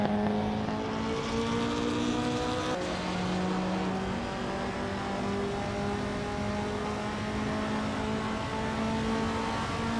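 Vintage street cars race on a track in a racing game, including a 1962 Morgan Plus 4, their engines droning and rising in pitch steadily in a continuous layered hum.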